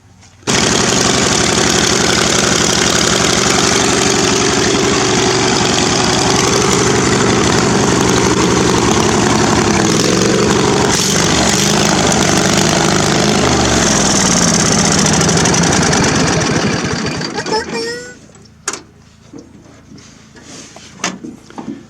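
A Murray riding mower's engine runs rough with a flooding carburetor, a loud, close, continuous chugging drone with uneven knocking that fades after about seventeen seconds, followed by scattered clatter and thumps.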